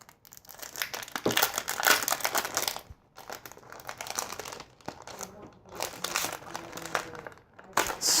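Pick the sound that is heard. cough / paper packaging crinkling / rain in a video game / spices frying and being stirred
paper packaging crinkling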